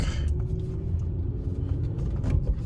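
A Volkswagen Mk4 GTI drives along just after a new steering wheel install, its engine and road rumble steady and close from inside the cabin, with no talk.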